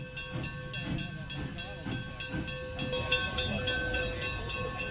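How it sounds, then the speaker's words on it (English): A Durango and Silverton Railroad steam locomotive hisses steadily beside its train before a trip up to Cascade; the broad, close hiss grows louder and fuller about halfway through, with faint voices early on. "That's our engine pulling our train today."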